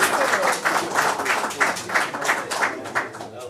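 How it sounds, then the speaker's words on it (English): Applause breaks out at a city council meeting, a steady patter of many hands clapping at moderate volume with some speech mixed in, sustained through the whole stretch. "Another round of applause."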